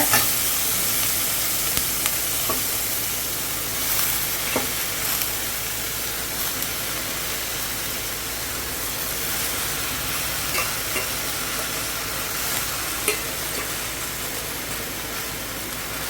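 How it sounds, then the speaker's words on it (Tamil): Freshly washed stalk amaranth greens sautéing in a pan: a loud, continuous sizzle and hiss throughout, with occasional stirring scrapes and clicks. "இப்போ நான் அலசி எடுத்து வச்சுருக்கிற இந்த கீரையை நம்ம வந்து இது கூட சேர்த்துடலாம் ஓரளவுக்கு வதங்கினா போதுங்க"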